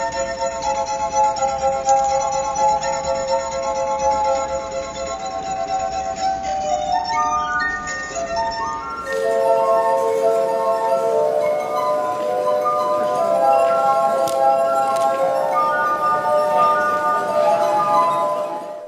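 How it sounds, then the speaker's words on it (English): A glass harp of 33 water-filled glasses rubbed with wet fingers rings out in sustained, overlapping pure tones, a shimmering melody of held notes that shifts into a brighter passage midway, close and continuous with no talk. "his unique instrument, a glass harp made of 33 glasses"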